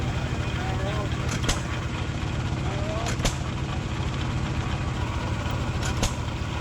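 An old John Deere/DAIN hay press runs slowly below its normal 450 RPM, giving a steady loud mechanical drone with periodic sharp knocks about every one and a half seconds, continuous and without talk.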